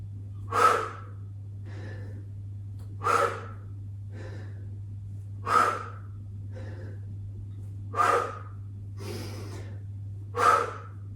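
Five loud, noisy breath exhales burst out at regular intervals of roughly two and a half seconds during a yoga HIIT workout, with softer inhales between them over a steady low hum.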